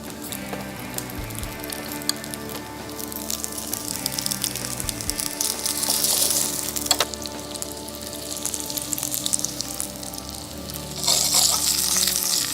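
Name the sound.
small grenaille potatoes frying in oil and butter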